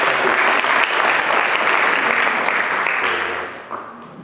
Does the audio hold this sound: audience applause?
yes